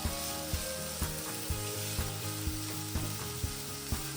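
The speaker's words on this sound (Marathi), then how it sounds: "आता हा कांदा छान ब्राऊन होऊ द्यायचा याला" Chopped onion frying in a pan while being stirred, a steady close sizzle broken by regular stirring knocks about every half second, with no talk.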